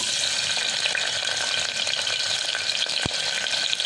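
Cumin seeds and onion pieces fry in hot oil in a pan, giving a close, continuous crackling sizzle with one sharp knock near the end.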